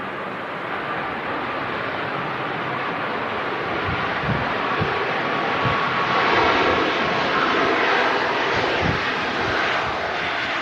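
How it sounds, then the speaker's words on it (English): A Ryanair Boeing 737 MAX jet roars steadily at Manchester Airport, its broad engine noise swelling slightly in the middle against light wind buffeting on the microphone, with no voices. "First max of the show here, the Ryanair."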